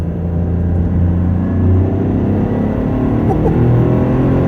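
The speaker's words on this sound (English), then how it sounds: "You can hear the boost noises too." A Toyota GR Corolla hatchback's turbocharged engine gives off a loud, steady low rumble heard from inside the car, and the revving swells slightly with boost now and then.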